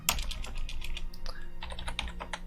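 Someone types on a computer keyboard while playing the 1976 text game Colossal Cave Adventure, giving a quick, irregular run of close, soft key clicks with a few brief pauses.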